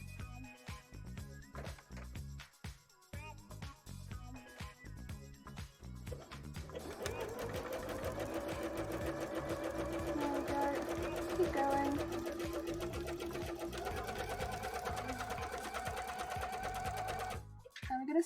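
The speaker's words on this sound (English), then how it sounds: "I think I can sew it down." A sewing machine stitches fabric onto a bra band in short stop-start bursts, then runs in a long steady whir close by, with a voice speaking at times.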